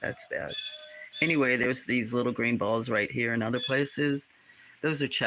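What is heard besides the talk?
No everyday noise stands out behind the speech.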